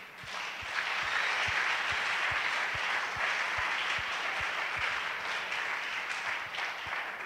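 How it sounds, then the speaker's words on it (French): A church congregation applauds together, a dense, loud, sustained roar of clapping with a steady rhythmic clap pulse underneath, lasting throughout. "acclamons pour celui qui a dit"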